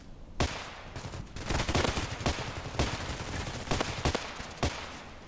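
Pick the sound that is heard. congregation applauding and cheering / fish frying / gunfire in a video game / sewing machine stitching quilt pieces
gunfire in a video game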